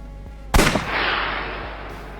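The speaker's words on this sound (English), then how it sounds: "I'll try shooting it." A single loud gunshot fired in the video game AI: The Somnium Files, a sharp crack with a short ringing tail fading over a low background hum.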